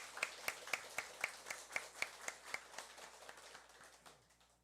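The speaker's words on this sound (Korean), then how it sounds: "우리 다 같이 찬양대에게는 격려, 하나님께는 영광의 박수 올려드리겠습니다." A church congregation claps for the choir after a Sunday hymn, a short run of roughly a dozen evenly spaced claps that fade out toward the end.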